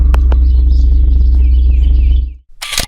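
Birds chirp in the morning in a North St. Louis County neighborhood, faint and scattered high calls over a steady low droning hum for about two seconds before a brief louder burst at the end.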